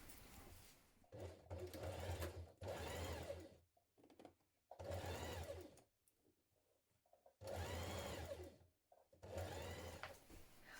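Sewing machine stitching children's dungarees, several separate bursts of rapid whirring stitching separated by short quiet pauses, close and fairly quiet, with no talking.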